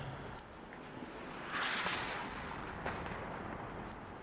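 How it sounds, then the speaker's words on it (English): Artillery fire in the real-time strategy game WARNO, a broad rumbling blast that swells and then lingers under a dense, noisy battlefield backdrop, with faint sharper pops and no talking. "More artillery to the front of this forest where nobody is."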